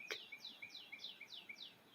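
A small pet bird chirps faintly in a quick, even series of about half a dozen high tweets, with no talk over it.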